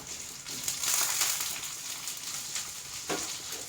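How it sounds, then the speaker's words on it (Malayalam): Chopped onions with garlic hit hot oil in a pan for Kerala-style egg roast, giving a bright crackling sizzle with a louder burst early on and a sharp spatter near the end. "ഇനി ഇതിലേക്ക് ഈ സവാള നമ്മൾ നുറുക്കി വെച്ചിട്ടുണ്ടല്ലോ അതാണ് ഇട്ട് കൊടുക്കാം"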